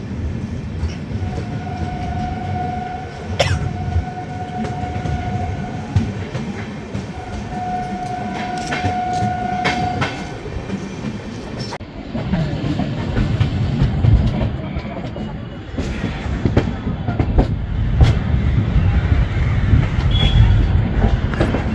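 The 13212 intercity express running on rails in Bihar between Danapur and Jogbani, a loud continuous rumble and rattle of wheels and carriages with a thin whistle-like tone early on and faint voices under the din.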